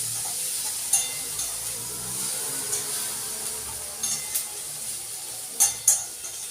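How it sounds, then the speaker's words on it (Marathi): Powdered spices hit fried onions in a pan, giving a steady soft sizzle with a few sharp clicks and scrapes of stirring scattered throughout; no one speaks. "कांदा लाल झाला का त्याच्यात मी मसाले टाकणारे, पावडर मसाले."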